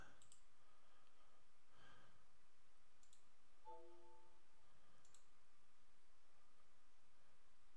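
Several crisp computer mouse clicks, faint and brief, in a quiet room with steady background hiss while software for a Ten-Tec Omni VII radio setup is opened.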